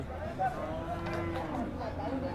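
A large beef cow at a cattle market moos in a low, drawn-out call, moderately close, amid faint background murmur.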